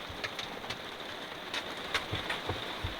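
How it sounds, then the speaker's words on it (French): Rain patters on the roof of a camper van, a soft steady hiss with scattered faint drops and taps, quiet and continuous with no voices. "On entend la pluie."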